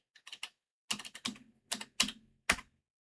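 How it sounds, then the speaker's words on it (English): Keys tapped on a computer keyboard while entering a Wi-Fi password on a Redmi A5 connection, heard as quick close bursts of clicks in several short groups separated by brief pauses, with no talking. "Type the password."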